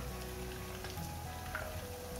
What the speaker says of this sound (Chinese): 锅里热一些油，先将馅料的表层朝下煎。